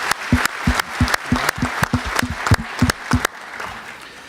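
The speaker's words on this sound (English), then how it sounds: "ask for a round of applause for the panelists" Conference audience applauds the panelists at the close of a session: a brief burst of rhythmic, fairly loud claps in steady succession that stops abruptly, leaving room tone.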